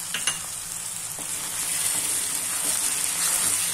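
Tomato puree stirred into sizzling fried onions while cooking a Gujarati dry moong dal dish. A steady, close frying sizzle runs throughout, with a few scraping stir clicks and no talking.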